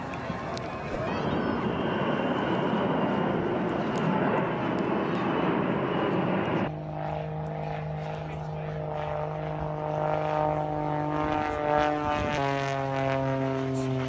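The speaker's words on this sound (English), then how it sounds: "Spectacular fireflight at Farnborough Airshow 2016" Aircraft flying a display at the Farnborough Airshow 2016 with a fire effect, a loud, steady engine roar that shifts partway to a harsher droning tone with strong engine hum, close and continuous throughout.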